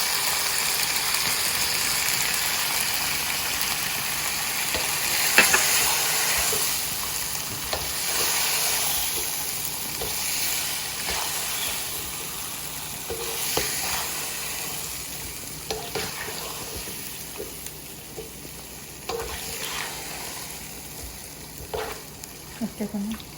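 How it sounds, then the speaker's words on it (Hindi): Tomatoes seasoned with salt and tandoori masala sizzle steadily in a frying pan while a utensil stirs them, with occasional scraping knocks against the pan over a continuous hiss. "तो हम लोग बस अब इसको हिला रहे हैं"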